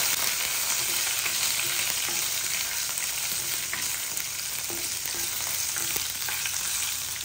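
Dry red chillies frying in hot oil, a dense, steady crackling sizzle that holds throughout, close and loud with no voices.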